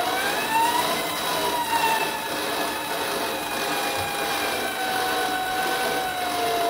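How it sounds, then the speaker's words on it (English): A Vevor 8x14 mini lathe takes a cut, with a steady, even motor-and-cutting whine holding at a constant level, a faint high tonal squeal drifting through it, close by and without speech. "We're gonna do another cut."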